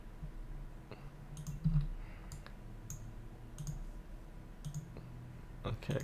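A computer mouse clicks while drawing surfaces in Creo CAD software: sharp, light clicks come in irregular singles and pairs, close and crisp, over a quiet room background.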